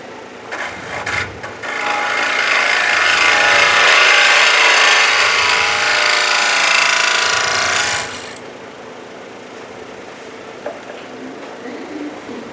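A wood lathe spins a screw-mounted burl cap at high speed, a loud, broad rushing whir that starts after a moment, runs steadily for about six seconds, then cuts off into quiet room noise.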